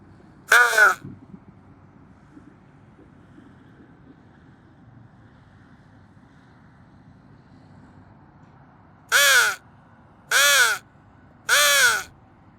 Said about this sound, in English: We get one crow. I'll settle for one. One crow.